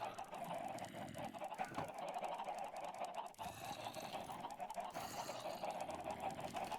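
Minecraft chickens clucking and squawking in the game, a busy overlapping flurry of bird calls that carries on steadily without talk.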